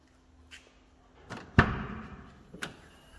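Tailgate of a 2009 Suzuki Grand Vitara 2.0 4x4 being opened: a soft click and a light mechanical clunk, then a sharp thump of the door releasing, followed by a smaller knock, close and fairly quiet.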